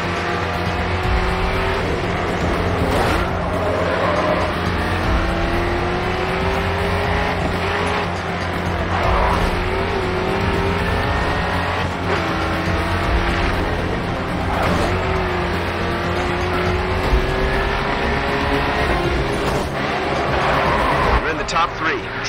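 Race car engines roar steadily in the video game Grid 2. Engine notes rise and fall as gears shift, with occasional tire squeals and bumps, all under almost continuous talk.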